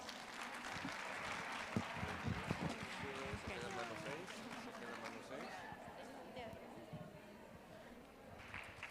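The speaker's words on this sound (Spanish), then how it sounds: "Un aplauso fuerte, por favor." Conference audience applause at a women's leadership summit, a steady wash of many hands clapping that holds for the whole stretch at moderate volume, with voices mixed in underneath.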